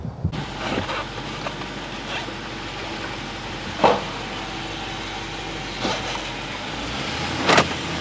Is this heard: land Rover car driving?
yes